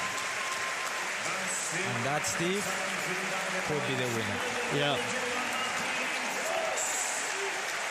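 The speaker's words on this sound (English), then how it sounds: "Steve Gerdau's teammate gives him a round of applause as well." Applause rises for a show jumper after a fast clear round at the Aachen Rolex Grand Prix, a steady patter running beneath a commentator's voice throughout.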